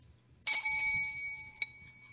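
A single bell rings sharply in a scene from the film Spider-Man: Homecoming, a bright ting that lingers and fades, with a second lighter tap near the end over a low murmur.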